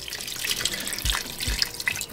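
Water poured from a tap into a pot of beef stew mid-cooking, a loud continuous splashing rush with a couple of low sloshing thuds, no talking.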